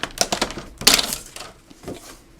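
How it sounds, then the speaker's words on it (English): A paper trimmer slicing through a file folder trimmed for a DIY gift box: a few sharp clicking, rasping cuts in quick bursts, close and fairly loud, then a softer scrape. "we're going to put it in and line up the edge at 8 inches. And we're just going to trim away."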